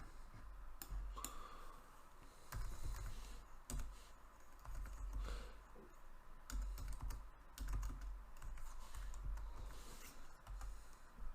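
Keys clatter on a computer keyboard as a password is entered, steady bursts of close, crisp typing clicks running throughout with short pauses between runs.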